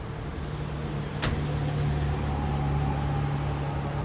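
A Toyota AE86 sports car's engine hums steadily at close range as it rolls slowly past at Daikoku, with a brief sharp click early on and a faint whine rising later.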